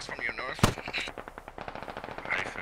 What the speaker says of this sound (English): I've got shots coming in from my north that sound NATO.